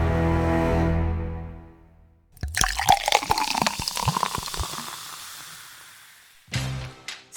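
Filtered house water being poured into a glass for drinking, a close splashing pour of about four seconds that tapers off, followed by a brief clink and a short second burst.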